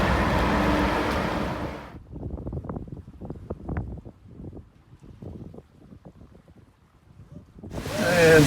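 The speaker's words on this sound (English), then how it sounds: "And of course the wind has to come up as I get closer to home" Wind gusts over open water from a small boat heading home, a broad rushing roar at the start and end with quieter choppy splashing and buffeting in between.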